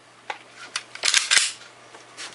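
A chromed Browning Hi-Power pistol's safety lever clicks a few times, sharp close metallic snaps with a brief cluster in the middle, in a quiet room.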